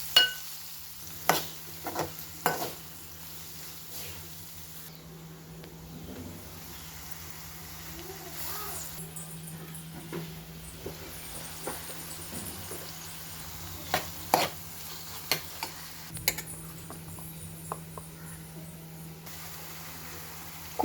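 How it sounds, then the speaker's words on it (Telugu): Onions and garlic frying in oil in a home kitchen, a low steady sizzle beneath scattered scraping and stirring taps of a spatula against the pan, fairly quiet and close, no talking. "ఇప్పుడు వీటిని ఆయిల్లో వేసి వేపేసుకుందాం. ఉల్లిపాయలు అలా వేగిన తర్వాత ఈ వెల్లుల్లి కూడా వేసి వేయించుకోవాలి"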